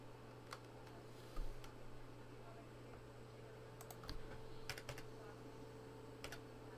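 Sparse clicks of a wireless computer keyboard being typed on, a few scattered keystrokes over a steady low hum, fairly quiet with no steady typing rhythm.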